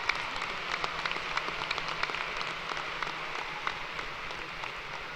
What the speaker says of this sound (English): Let's give a round of applause for all of these individuals.